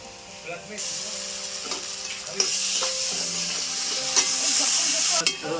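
Ginger-garlic paste hits softened, reddish onions frying in a pan for potol chingri, giving a close, bright sizzle with occasional stirring scrapes and clinks that carries on steadily throughout.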